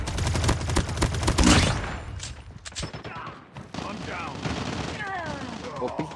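Rapid bursts of machine gun fire in a Call of Duty Mobile match, loud and dense at first, then sparser shots and battle noise as a voice talks excitedly over it.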